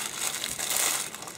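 Packing tape peeled and crinkled off a plastic model kit box, a continuous close crackling rip lasting about a second and a half with no talking.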